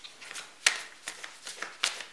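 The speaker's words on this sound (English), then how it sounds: "let's pull some oracle cards as well for you" Oracle cards being shuffled and drawn from the deck, with soft papery riffles and brisk slaps recurring in an uneven rhythm, close up and fairly quiet.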